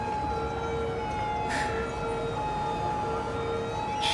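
Emergency sirens of an ambulance and fire truck wail steadily in a city-building video game, overlapping tones holding on continuously at moderate level with brief bursts of other game noise.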